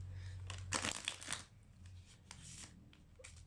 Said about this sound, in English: I've already pre-shuffled this, so I'm just going to rifle it once